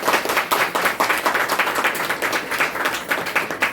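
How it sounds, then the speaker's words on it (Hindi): A room of people claps loudly and close by in a rhythmic, pulsing pattern, hands striking together in quick repeated bursts throughout. "इसके लिए जोरदार ताली।"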